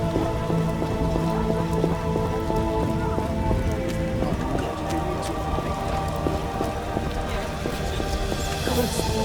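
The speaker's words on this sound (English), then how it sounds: "What a downpour! The scourge of the Lord's this rain." A heavy downpour in The Witcher game world, steady dense rain drumming on surfaces throughout, with sustained tonal music layered underneath.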